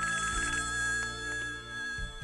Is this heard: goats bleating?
no